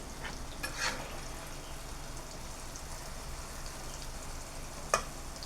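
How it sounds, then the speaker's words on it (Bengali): Nimki pieces frying in hot oil give a steady, soft crackling sizzle throughout, with a couple of brief sharper pops and clinks. "তাহলে এখন আমি এগুলো এক এক করে ভেজে নিব।"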